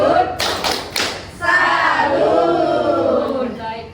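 A women's group at a community stunting-awareness session does the rhythmic 'tepuk salut' clap: a quick burst of loud claps, then several voices chanting together in a lively, echoing room.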